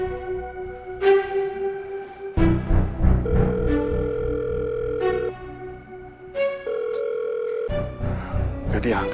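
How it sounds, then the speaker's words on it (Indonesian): A telephone call goes unanswered as the ringback tone repeats in long, evenly spaced steady pulses, close and clear, with some talk in Indonesian between the tones. "Gak diangkat lagi sama si Gani."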